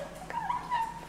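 A small Yorkie dog whimpers softly indoors, giving a couple of thin, high whines over about a second at low volume.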